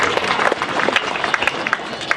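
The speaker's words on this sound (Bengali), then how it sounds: "একবার জোরে করতালি সবাই মিলে।" A crowd claps together at an outdoor cricket ground ceremony, a dense, steady patter of many hands, fairly loud and close.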